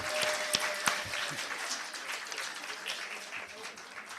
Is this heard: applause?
yes